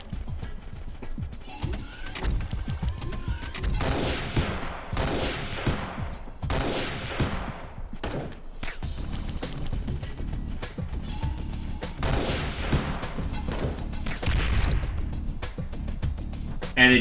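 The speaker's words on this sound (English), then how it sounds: "That's a grenade." Gunfire and explosions in the Xpiratez strategy game, a dense stretch of rapid shots and bursts with heavier blasts near the middle and end, loud and continuous with no pauses.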